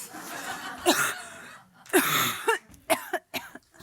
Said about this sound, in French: vous devriez consulter pour cette toux